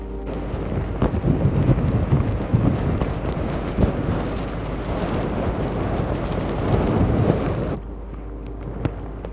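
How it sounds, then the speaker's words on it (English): Strong wind roars in continuous low gusts, buffeting close by, then suddenly drops to a quieter hiss near the end. "It's really windy."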